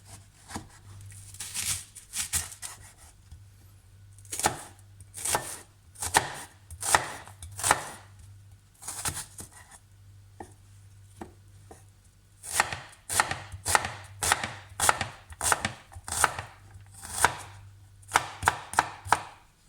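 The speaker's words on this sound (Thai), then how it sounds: "มะเขือเทศนี่ต้องหั่นเบาๆนะคะ เดี๋ยวมันจะเละ เดี๋ยวมันจะช้ำ" Tomatoes are sliced with a knife on a cutting board while making panmolle, an Italian vegan dish: a long series of crisp, close chopping taps in irregular bursts with brief pauses, no talk.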